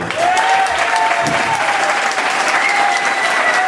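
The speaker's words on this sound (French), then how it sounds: "je pense qu'on peut applaudir très, mais alors très fort" Loud, sustained audience applause at a hypnosis show for Jean-Marie Laforgue, thick clapping with faint voices and a tonal hum running underneath.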